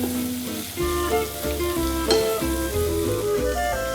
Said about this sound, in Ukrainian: закидаємо у пательню до часнику і панчети